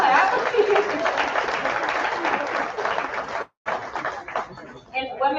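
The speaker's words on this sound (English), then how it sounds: "Kevin and Katie Crumbo, you can clap, you can clap." Gala audience at a Hall of Fame event applauding donors, a sustained wash of clapping over several seconds that briefly cuts out, then resumes more faintly with a voice coming in.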